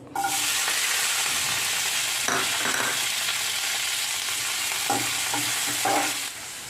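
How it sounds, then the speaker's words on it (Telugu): Onion and curry leaves fry in hot tempering oil for a raw banana and tomato curry, giving a loud, steady close-up sizzle broken by a few stirring scrapes, with no talking. "ఆ తర్వాత నేను ఇక్కడ ఉల్లిపాయ, కరివేపాకు వేస్తున్నానండి."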